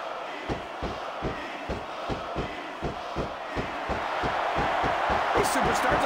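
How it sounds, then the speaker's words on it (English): Wrestling arena crowd in a video game roaring and cheering continuously while regular thudding impacts pulse underneath, with a commentator's voice over the top. "this crowd can't get enough of it"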